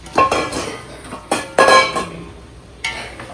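Carrots and beans with masala being sautéed in a pan, heard as several separate clinks and scrapes of a metal utensil against the pan, close and in irregular bursts with quiet gaps between.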